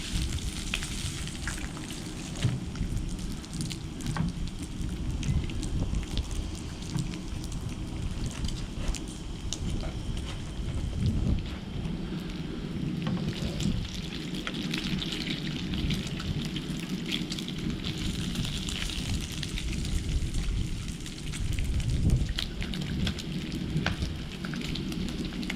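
Patrick Cudahy bacon frying in a pan for a breakfast burrito, a steady close crackle and sizzle with scattered pops, continuous throughout without talk.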